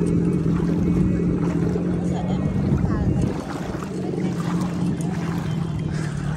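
A rented motorboat runs on open water, its engine droning steadily with wind and water rush close to the microphone, easing slightly partway through.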